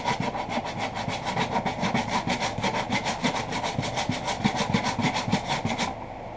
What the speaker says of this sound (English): on the inside I take a little bit of sandpaper, real rough. Rough it up a little bit.